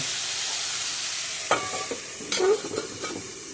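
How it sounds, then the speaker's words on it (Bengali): Soft background sizzle of cauliflower and vegetable stalks frying in a pan, broken by a few scraping stirs and spatula clatters against the metal. "এভাবে আমি একটু সবজিটাকে ভালো করে একটু ভাজা ভাজা করে নেব"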